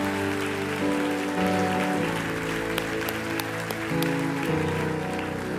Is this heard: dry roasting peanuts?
no